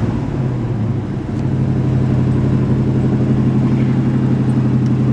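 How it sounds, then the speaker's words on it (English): A 1968 Camaro with a 327 V8 engine and four-speed fires up and settles into a loud, steady, close idle with a deep rumbling exhaust, heard alone without talk. "Let's start this car up. She fires right up."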